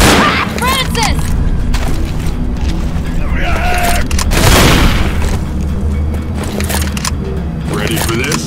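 Gunfire and booming blasts from the zombie shooter Left 4 Dead on Expert difficulty, loud and continuous, with game character voices shouting over the shots.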